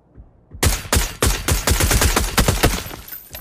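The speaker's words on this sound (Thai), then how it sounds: "เวลากูยิงปืนมันดีมาก" Rapid automatic gunfire in the battle royale game PUBG rattles off as a loud, close burst of about a dozen sharp shots in quick, even succession, with no talking over it.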